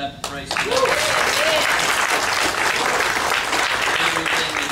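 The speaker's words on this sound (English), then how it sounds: "Give the Lord another hand clap to praise Him." A church congregation claps loudly and steadily in worship, a sustained wash of applause with some voices mixed in.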